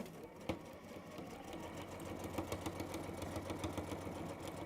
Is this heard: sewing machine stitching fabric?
yes